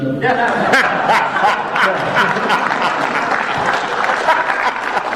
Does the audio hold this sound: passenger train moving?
no